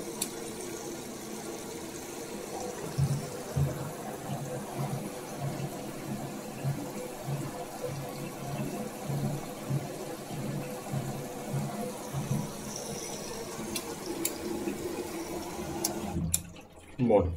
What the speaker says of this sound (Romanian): mașina a terminat de alimentat cu apă